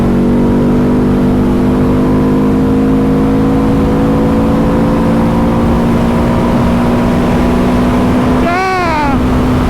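Ducati motorcycle engine, from a Multistrada V4 Pikes Peak or Hypermotard 950 RVE, holds a steady loud drone and then revs sharply near the end with a rising exhaust note.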